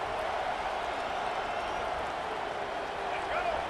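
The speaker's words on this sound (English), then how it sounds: "This crowd bringing the energy and noise early." Stadium crowd noise in the College Football 25 video game during an Ole Miss vs UCLA matchup, a steady, dense roar of many fans that stays constant and fairly faint throughout.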